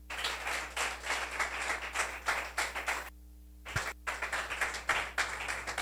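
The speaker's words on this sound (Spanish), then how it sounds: "Dale un fuerte aplauso al Señor, iglesia" A church congregation claps in praise over steady background music, a moderately loud burst of clapping that breaks off briefly midway and then resumes.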